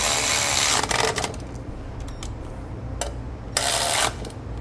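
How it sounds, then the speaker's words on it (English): A ratchet with a 9/16 socket tightens bolts on a SumoSprings helper spring bracket on a 2018 Thor Windsport motorhome. Two short bursts of fast mechanical clicking are heard, with quieter rustling between them. "We'll then tighten those down using a 9/16 socket."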